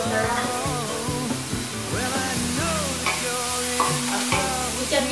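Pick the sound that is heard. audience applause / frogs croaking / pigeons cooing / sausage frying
sausage frying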